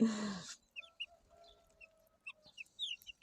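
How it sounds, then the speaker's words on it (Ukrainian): A loud squawk opens, then a small crested bantam rooster makes soft, scattered clucks and chirps amid quiet surroundings, close and intermittent. "Ну, півник."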